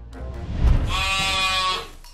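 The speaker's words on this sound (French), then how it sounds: "C'est une brebis." A ewe gives one long, loud, wavering bleat close by, after a brief low thump, sustained for over a second before trailing off, with no voices.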